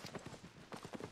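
Horse hooves clip-clop in a steady rhythm in the Albion Online video game, a brief close burst with faint voices talking underneath.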